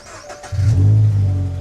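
Toyota GR86 with a very large aftermarket exhaust starts up: a brief starter crank, then the engine catches with a loud, deep rumbling idle that holds steady, close by.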